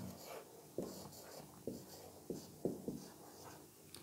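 Pen strokes writing out an English example sentence on paper or a board, several short scratchy taps and scrapes at an uneven pace, close by with no talk.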